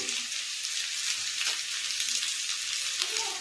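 Spices sizzle in hot oil as fish curry is started, a bright, continuous frying hiss with small crackles, close by and steady throughout.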